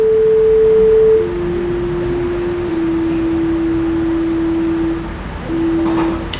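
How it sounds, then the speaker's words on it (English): A pure, smooth synthesizer sine wave tone holds a few steady notes in turn, with a short gap before the last one. "we're starting with a sine wave."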